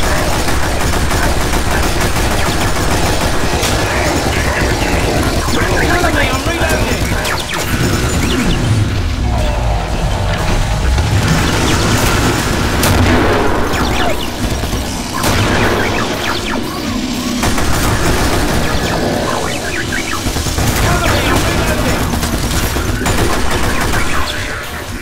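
Machine guns fire in the video game Killing Floor on the KF-Forest map, a loud, sustained and dense barrage of rapid shots and booming blasts that continues almost without pause.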